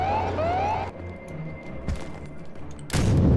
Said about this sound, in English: Oh, he has a rocket launcher.